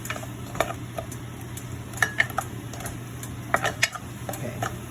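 Onions and garlic being sautéed and stirred in a pan for chicken adobo: soft scraping strokes with faint sizzle, a few sharper utensil clicks standing out at a steady, unhurried pace.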